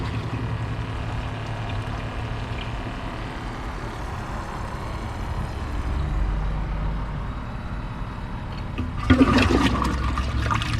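A toilet flushes in a Champion 4 versus Kohler Class 5 flush comparison: a steady rushing of water runs throughout, then a louder gurgling surge near the end.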